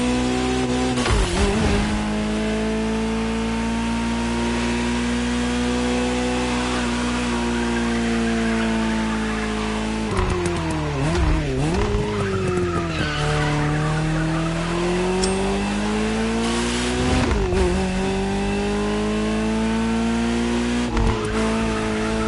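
A Ferrari 308 GTS driven in The Crew Motorfest. A loud, steady engine drone rises and falls through gear changes, broken by several tire squeals and skids, with no talking.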